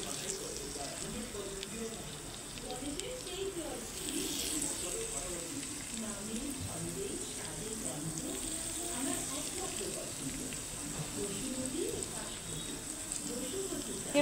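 Fish fry in hot oil with a low, continuous sizzle and crackle, fairly quiet and steady, with faint kitchen clatter and a voice in the background.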